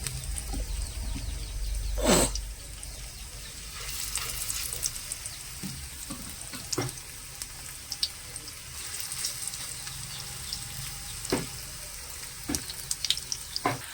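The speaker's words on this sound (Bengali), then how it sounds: "বড়া আমার ভাজা হয়ে গেছে আমি তুলে নেব" Steady crackling sizzle of bok flower (Sesbania) fritters frying in hot oil, continuous throughout, with occasional sharper pops and a brief louder clatter early on.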